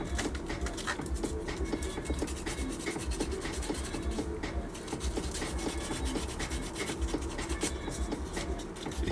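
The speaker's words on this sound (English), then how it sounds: "Let's try sanding it." Steady, continuous abrasive rubbing of sandpaper against a hard plastic model part from a 1/48 Tamiya F-16C/N kit, dense scratchy strokes running throughout with no voices.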